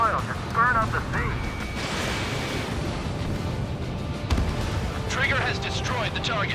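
An oil tank blows up during an air strike on a sea refinery in Ace Combat 7: Skies Unknown, a deep rumbling blast with a sharp burst partway through, over roaring fire and battle noise, with voices talking at times.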